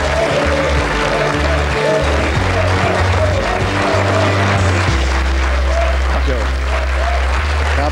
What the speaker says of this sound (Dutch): Uw applaus voor Johan Museeuw.